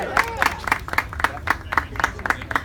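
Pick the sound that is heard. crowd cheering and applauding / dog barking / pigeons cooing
crowd cheering and applauding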